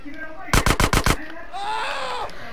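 CJ fires a quick burst of about five gunshots in GTA San Andreas. The loud, evenly spaced reports are followed by quieter game ambience.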